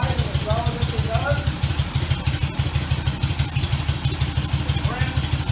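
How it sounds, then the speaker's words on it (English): A vintage-style Indian motorcycle sits at its slowest idle with the spark retarded, its engine thudding in a steady, closely miked rhythm of even low pulses while someone speaks faintly behind it. "The engine is idle as low as it can go."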